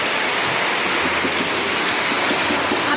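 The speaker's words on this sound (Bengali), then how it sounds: "কি জোরে জোরে বৃষ্টি পড়ছে" Heavy rain pours down in a dense, constant hiss that drums on surfaces with no break, loud and close, while no one talks.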